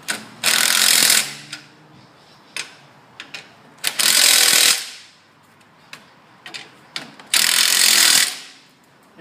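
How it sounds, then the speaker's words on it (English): A metal spanner tightening fittings on a P5 setup, heard as three longer bursts of close, loud ratcheting and scraping, separated by quieter clicks and small knocks. "I always have a spanner which I tighten them up with to make sure that they are tight"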